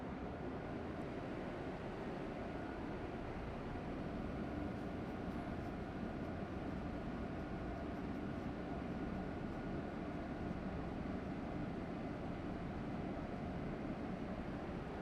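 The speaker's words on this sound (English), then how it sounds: "we're going to energize those DC windings, and then the outer rotor of the flywheel is going to grab onto the inner rotor" An industrial flywheel whose outer rotor grabs the inner rotor via energized DC windings, spinning it up to 1800 RPM; a steady, even broadband hum and whir holds at constant loudness throughout, with no talk.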